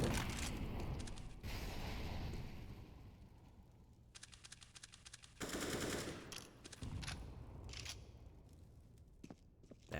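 Bursts of rapid automatic gunfire from a Counter-Strike match on the Mirage map, loud clustered volleys broken by quieter gaps of scattered shots and footsteps.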